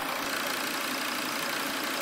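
A Volvo XC70 with a coolant leak and a head gasket fault idles after starting, a steady, close, hissing mechanical hum with no changes in pace.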